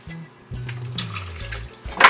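A little water pours into a blender over garlic powder and mustard for a salad dressing. It makes a brief, soft splashing trickle that fades in and out, quiet and close, with no speech.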